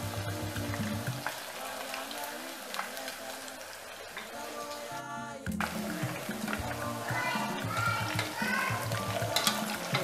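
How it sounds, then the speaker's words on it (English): Cocoyam slices deep fry in oil and are stirred with a spatula. A soft, constant bubbling sizzle runs under voices and other background tones, with a brief crackling burst midway. "And then you deep fry it"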